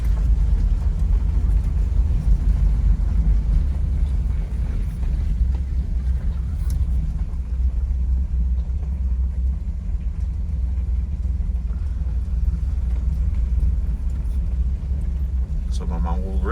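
A 1966 Chevy Corvair with an air-cooled rear engine cruises along, giving off a steady low rumble and road drone throughout with wind buffeting.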